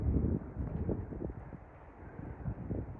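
Wind buffets a phone microphone on a hilltop overlooking Pendle Hill in winter, a low, rumbling gusty roar that rises and falls throughout, with no voices.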